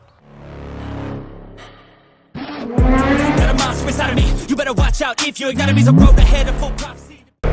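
A QJMOTOR Fort 350 (2024) scooter's small engine starts and revs up and down repeatedly, its pitch rising and falling sharply as the scooter gets moving.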